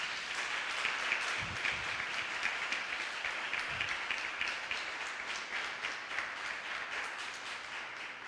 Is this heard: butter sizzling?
no